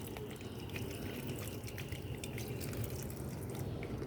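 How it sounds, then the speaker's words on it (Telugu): Water poured from a container onto potted plants, a faint, steady splashing trickle with scattered light drips, heard close and alone without talk. "కొంచెం వాటర్ పోద్దామండి వీటికి."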